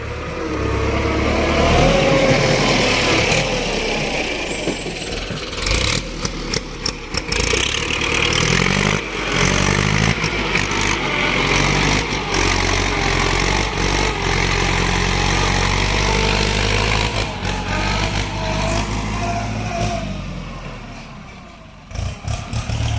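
A 1997 Ford 6640 farm tractor's engine runs steadily nearby at a loud, rumbling idle, with some brief clattering and uneven dips before it fades slightly near the end.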